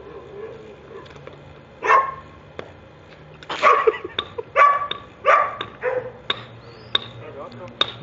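A dog gives a series of sharp barks and yips in bursts, fairly close and loud, with some speech in a short film scene.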